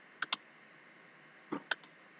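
Computer mouse clicks while editing a WordPress site menu: two quick pairs of crisp, close clicks, one pair at the start and another about a second and a half later, over quiet room tone.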